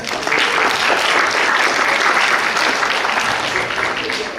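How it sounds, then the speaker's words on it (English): A room of students and teachers at a youth engagement event applauds the school board members, a loud, sustained wash of clapping for several seconds. "give a round of applause to board members"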